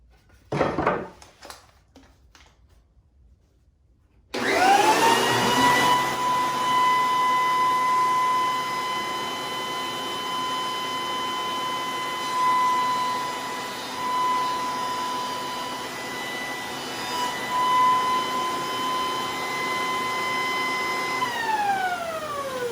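Wahuda 6-inch jointer planing a poplar board: a few faint knocks, then the motor spins up into a loud steady whine with cutting noise for about seventeen seconds before winding down.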